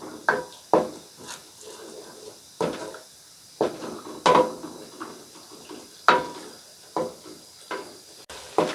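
A spoon scraping and knocking against a pan while yogurt is stirred into chicken karahi on high flame, a series of close, irregular metallic clanks and scrapes with no talking.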